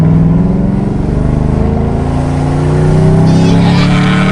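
A powerful car engine roars loudly nearby, its pitch climbing steadily as it revs up, heard from close range without speech.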